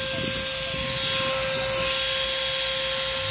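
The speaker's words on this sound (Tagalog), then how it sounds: "testingin na natin dito sa akin impact wrench" A battery-powered cordless impact wrench runs steadily for the whole stretch, giving a constant, loud mechanical whine with a fixed tone over a broad hiss and no pauses.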